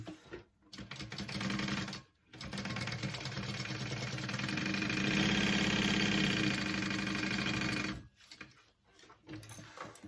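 A sewing machine stitching the seam of a fabric tote bag, running in a steady, close whirring drone that is broken by brief stops.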